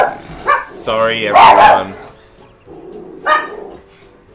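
A dog barks several times in a room, sharp loud yaps spread across a few seconds and mixed with people talking and laughing nearby.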